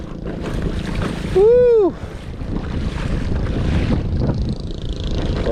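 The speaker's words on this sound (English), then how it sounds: "Barely moving against this wind." Steady wind roars across open water while a fishing boat is pedaled slowly into a headwind, with broadband gusty rush throughout and a brief whooping voice cry partway through.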